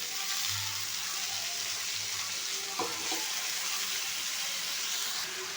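Eggplant, potato, drumstick and other vegetables sizzle steadily in a pan of dried fish curry, a continuous frying hiss with a brief clatter of stirring midway and no talking.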